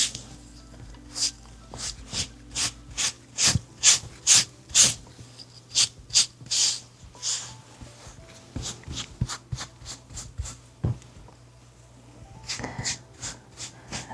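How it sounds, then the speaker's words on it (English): A hair brush sweeps repeatedly through thick locs, each stroke a close, crisp scratchy swish in a loose rhythm, dense bursts early on, then sparser strokes with a pause before a few more at the end; no talking. "I'm just gonna brush all throughout my head"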